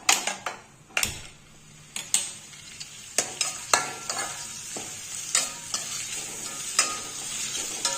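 Cabbage rice ingredients stirred and sautéed in a pan, with a constant low sizzle under repeated sharp spatula scrapes and taps against the metal in an irregular rhythm.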